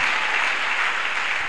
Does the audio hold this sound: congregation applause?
yes